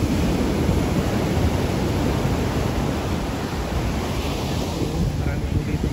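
Powerful sea waves with a strong current pound a busy tourist beach, producing a constant, dense roar close by, mixed with gusty wind buffeting the microphone.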